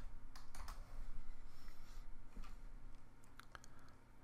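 Typing on a computer keyboard: quiet, close clusters of quick key clicks in irregular bursts over a soft background hum, with no voices.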